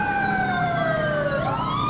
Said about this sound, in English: I just want to stick by this dude so I can hear his siren.